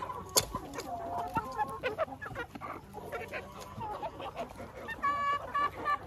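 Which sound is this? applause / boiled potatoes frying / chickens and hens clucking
chickens and hens clucking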